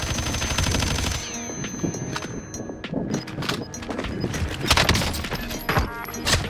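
Gunfire in Call of Duty Warzone, rapid bursts of shots and metallic clanks scattered across several seconds, fairly loud and busy, with no talk.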